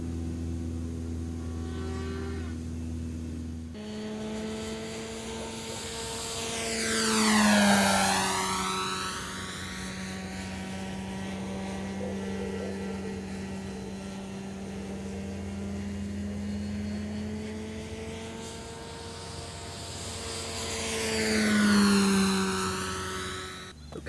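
An electric motor on an RC model airplane spins an APC 1710 E-prop, giving a strong tonal whine that swells and sweeps twice in long surges between steadier stretches.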